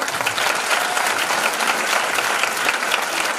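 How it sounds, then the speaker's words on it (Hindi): A seminar audience gives a loud, dense round of applause for a longtime member, with continuous clapping at full strength throughout and no voices over it. "हमारे पुराने साथी जब दमदार ताली बजाएं इनके लिए"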